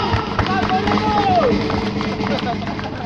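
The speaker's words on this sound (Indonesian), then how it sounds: "berikan tepukan pada Pak!" Audience at a live band concert in Ipoh claps and cheers in a dense, steady wash of applause, with shouts and voices rising over it.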